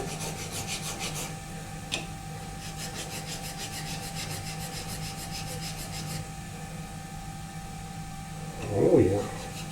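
Hand filing of metal on a Steinmeyer 100-200 mm micrometer, heard as a steady, close rasping with repeated strokes that runs for most of the stretch. A short knock near the end stands out above it.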